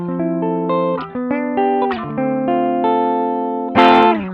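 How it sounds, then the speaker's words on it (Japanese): Electric guitar through the Fender Bassman amp model on a ZOOM G1 X FOUR multi-effects unit, playing a run of clean sustained notes and chords that ring into each other, closing with a louder strummed chord; no voices. "これフェンダーベースマン。"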